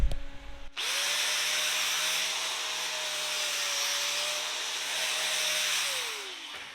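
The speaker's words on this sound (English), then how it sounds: "I'm gonna go ahead and hit that with a wire wheel." A power wire wheel spins steadily against a 2-inch Schedule 80 steel pipe weld with a 6010 root and 7018 cap, a continuous loud whirring grind after a brief start, winding down at the end.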